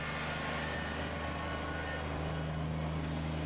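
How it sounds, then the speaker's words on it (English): A Woodmax SB 48-inch snow blower mounted on the back of a small Kubota BX series tractor gives a steady, droning engine and blower hum that stays close and even throughout. "this Woodmax, it's a SB 48-inch blower, is really just a perfect combination for the back of this little Kubota BX series tractor"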